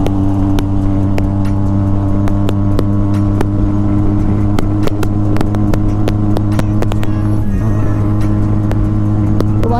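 A KTM Duke 390 motorcycle in a road drag race against a Mini Cooper, its engine droning loud and steady with a continuous harmonic hum and sharp ticking transients, shifting pitch near the end.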